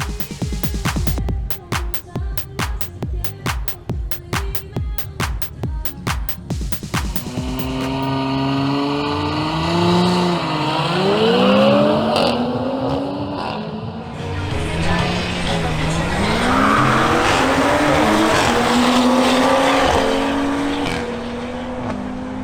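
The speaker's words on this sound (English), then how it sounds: "Sebastian Sepulveda presents in his BMW M240i xDrive, facing Ronald Chavez this time aboard his Audi SQ5" BMW M240i xDrive against an Audi SQ5 at a drag race: a rapid throbbing idle then roaring engines accelerating with rising and shifting revs, loud and sustained with tire noise as the cars launch and pull away.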